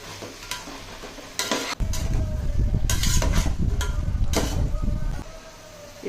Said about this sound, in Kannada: ಇದು ರುಬ್ಬಿರೋ ಮಸಾಲೆ, ಮಸಾಲೆ ಹಸಿ ವಾಸನೆ ಹೋಗೋವರೆಗೂ ಇದರಲ್ಲೇ ಹುರಿಬೇಕು